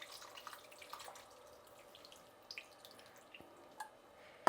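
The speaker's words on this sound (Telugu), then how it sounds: "ఇందులోకి నేను మళ్ళీ కొంచెం నీళ్ళు పోసి కలిపి పోసుకుంటా ఉన్నాను" Water being poured into soaked tamarind in a bowl and mixed by hand for a bitter gourd stew, heard as faint trickling and soft splashes with a few small drips, quiet and close.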